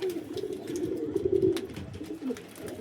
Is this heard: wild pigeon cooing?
yes